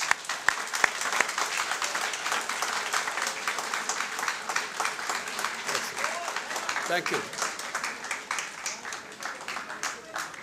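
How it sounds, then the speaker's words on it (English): Audience applause fills a university lecture hall in Dubai, dense steady clapping from many hands that holds for the whole stretch, with a brief spoken thanks near the start. "Can we clap?"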